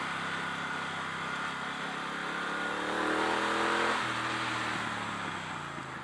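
A Triumph Bonneville Speedmaster motorcycle engine drones steadily, then its pitch climbs as it accelerates and shifts, loud and close with wind rush throughout.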